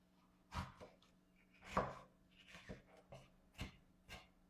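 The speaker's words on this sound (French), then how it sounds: "Nous le couperons en très petits morceaux." A knife chopping chili pepper into very small pieces on a board, with about six to eight distinct, uneven cuts standing out clearly against a quiet kitchen background.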